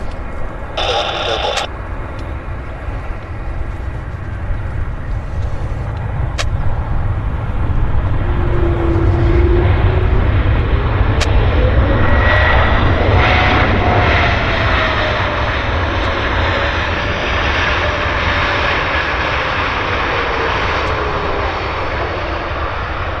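An Embraer jet airliner taxis at Vancouver airport, its engine a steady, loud hum and whine that holds through the whole stretch, with faint tower radio chatter in the background.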